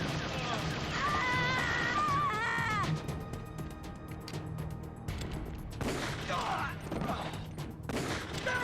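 Gunfire in Metal Gear Solid: The Twin Snakes on the Wii, bursts of rapid shots under game music and someone talking, followed by quieter scattered sounds.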